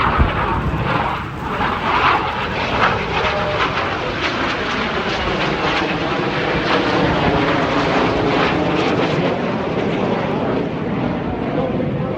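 Display jets pass at a seaside airshow with a loud, continuous broadband roar that stays strong throughout, a public-address voice faintly present beneath the noise.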